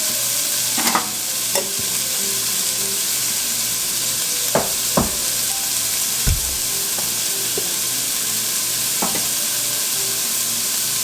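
Vegetables with salt and pepper sizzle in a soup pot for chicken noodle soup, a steady loud hiss broken by a few scraping stirs of a spoon against the pot.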